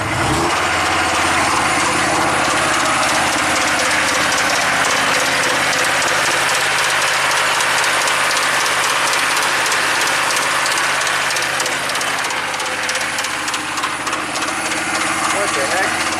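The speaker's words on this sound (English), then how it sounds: "I'm noticing some weird sounds under the hood." Chevy 6.5 turbo diesel engine running under the hood with an odd fault, a loud steady mechanical clatter and rattle that continues throughout.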